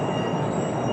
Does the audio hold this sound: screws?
no